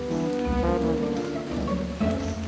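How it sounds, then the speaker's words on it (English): Rain falls steadily around a toy train scene, a dense continuous patter and hiss with a low rumble underneath, fairly close and without any voices. "It started raining."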